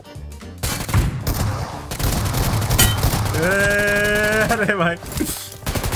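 Shotgun blasts in a team deathmatch video game fire amid dense battle noise, with a tonal whine rising in the middle, while a player speaks excitedly over the gunfire.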